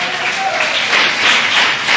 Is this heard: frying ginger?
no